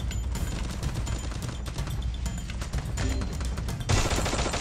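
Rapid gunfire in a shooting video game, with dense bursts of close shots crackling steadily over the game's background din.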